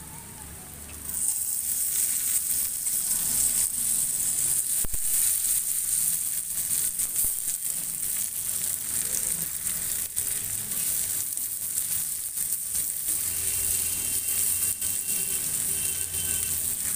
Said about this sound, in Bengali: এরপর টমেটো কুচিটা দিয়ে দেবো।